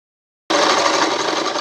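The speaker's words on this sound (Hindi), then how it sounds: "तो यहाँ से हम सिलाई को लगा लेते हैं और पूरे पार्ट को हम बंद कर लेते हैं" Cut in after brief silence, a sewing machine runs at speed stitching pant seat pieces together, a steady close whirring hum.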